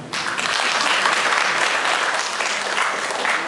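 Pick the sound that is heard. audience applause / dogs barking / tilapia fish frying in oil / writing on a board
audience applause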